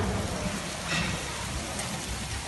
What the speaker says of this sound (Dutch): Het hagelt fucking hard.